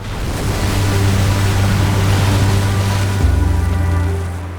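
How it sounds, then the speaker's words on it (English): At a high spring tide, sea waves surge against the base of a coastal cliff fall. The roar of surf is loud, steady and continuous throughout, with the low rumble shifting slightly partway through. "When you've got the sea up like this, on a high spring tide with the waves, it washes over the base of the cliff fall"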